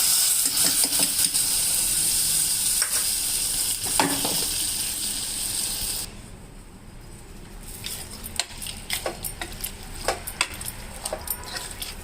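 Lentils crackle and sizzle in hot tempering oil, a bright steady fry that fades out midway, followed by sharper intermittent pops and spatters close by with no talk.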